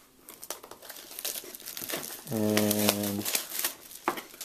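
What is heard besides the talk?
tearing open plastic wrapper on Boxee TV box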